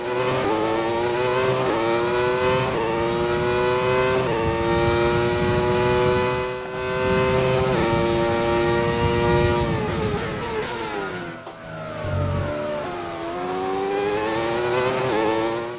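Simulated high-revving engine of a 1994 Benetton B194 Formula One car in the F1 2020 racing game at Austria, screaming loudly and continuously with rising pitch sweeps through gear changes and a brief drop near the end.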